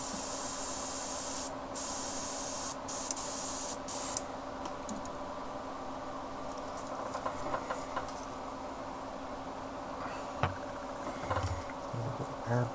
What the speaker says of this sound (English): Airbrush cleaner.